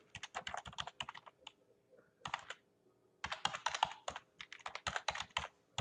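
Bursts of rapid computer keyboard typing, close and crisp, arriving in several quick runs separated by short pauses, with no voices.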